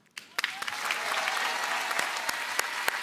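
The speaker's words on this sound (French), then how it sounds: "Applaudissements pour Sohan, s'il vous plaît." Loud applause from a concert audience for a singer on stage breaks out suddenly and holds as a dense, sustained roar of clapping, with a few sharp claps standing out near the front.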